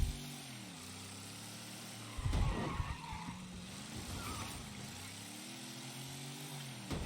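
Car tires skid and brakes screech in the video game Mafia III: a loud, harsh burst of skidding cuts in partway through over a steady droning engine that keeps running after the slide.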